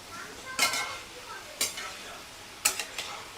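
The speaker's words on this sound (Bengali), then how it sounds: "মশলা এদিকে কষানো হয়ে গেছে, এবার দিচ্ছে আর ভেজে রাখা আলু পটল" Spiced masala being stirred with fried potato and pointed gourd in a pan, three sharp stirring scrapes over a soft sizzle, fairly quiet and close.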